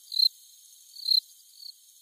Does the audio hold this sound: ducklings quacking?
no